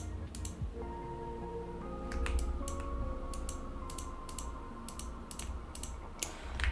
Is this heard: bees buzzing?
no